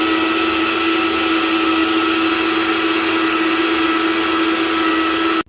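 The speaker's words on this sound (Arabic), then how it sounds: "والآن نبدأ بخفق المكونات" Electric blender whirring steadily as it blends watermelon juice ingredients, a loud, constant motor whine held for several seconds before cutting off abruptly at the end.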